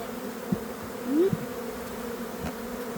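Honey bees buzz steadily around an opened hive during a colony split, a close, continuous drone with a few brief louder swells as individual bees pass near.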